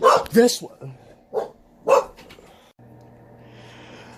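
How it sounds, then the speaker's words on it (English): A dog barks a few times nearby, loud and sharp, mixed with a person speaking briefly, then a low steady hum remains. "My apologies about the unsuspected barking from this creature."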